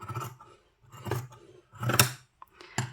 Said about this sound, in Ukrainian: Якщо я візьму ножиці і почну різати, як ми робимо це зазвичай, беру і ріжу.